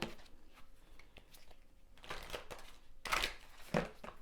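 Oracle cards being shuffled in a pick-a-card reading, giving soft papery riffles and taps that build to two sharper bursts near the end, close and quiet with no talking.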